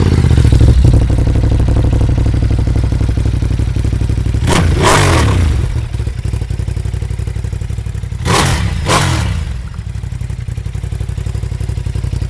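Ducati Monster motorcycle engine idling close by with a steady, loud, throbbing rumble, interrupted by a few sharp clattering knocks.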